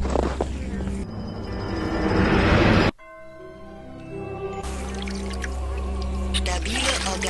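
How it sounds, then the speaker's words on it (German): Splash of a character landing in water in the video game Outcast, a loud broadband rush that stops abruptly around three seconds in, followed by quieter watery ambience and a rising trickling wash. "Oh, wir landen im Wasser."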